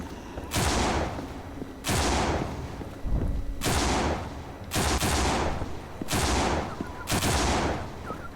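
Repeated gunfire in the zombie shooter No More Room in Hell: six or so loud, close bursts at roughly one-and-a-half second intervals, each sharp onset trailing into a sustained roar, with no talk over it.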